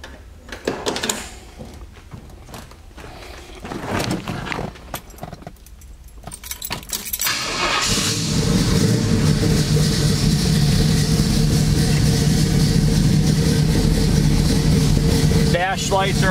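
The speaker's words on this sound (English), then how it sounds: "I'll start this car up for you." 1969 Pontiac Firebird with keys jangling, then the V8 cranks and fires into a loud, steady, lumpy idle that continues close by, with someone talking briefly before the start.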